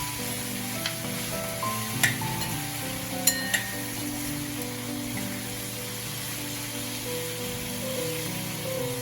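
Vegetable fried rice is stirred and fried in a pan, giving a steady soft sizzle with a few sharp clinks of a utensil against the pan and a faint hum in the background.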